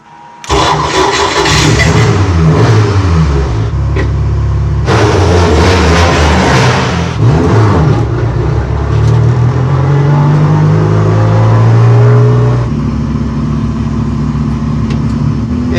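A loud Audi RS3 TCR race car engine cranks and fires up, then revs repeatedly with rising and falling roars before settling into a rough idle, close by.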